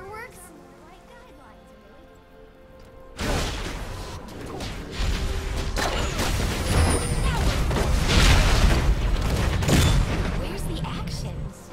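Fireworks explosions in a League of Legends–style video game: after a quieter opening, a dense burst of booms and crackling blasts erupts and keeps going, loud and layered, with game voice lines and talk running underneath.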